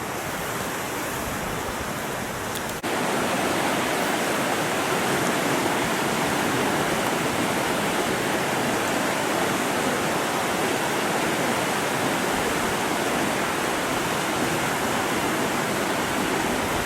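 Riley Creek rushes steadily beneath a suspension bridge in Alaska on the way to Denali National Park, a loud, continuous broadband roar of flowing water that swells slightly after the first few seconds.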